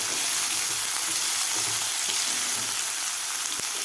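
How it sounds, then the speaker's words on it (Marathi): Chopped potato and vegetables for a savoury semolina dish sauté in a pan, giving a loud, even, continuous sizzle close by with a faint spatula tap near the end. "भाज्या भाज्यासुद्धा आपल्याला एक ते दोन मिनिट व्यवस्थित परतून घ्यायच्या आहेत"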